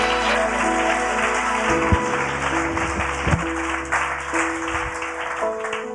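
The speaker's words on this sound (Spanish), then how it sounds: "Denle un aplauso fuerte a Dios." A church congregation claps loudly for God, a dense steady burst of applause layered over sustained organ or keyboard tones, with a few louder thumps along the way.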